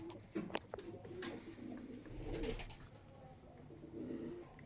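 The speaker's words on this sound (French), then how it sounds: "Pigeon voyageur." Soft, low homing pigeon coos from a pair sound close by in a quiet space, with some wing flaps and light rustling scattered throughout.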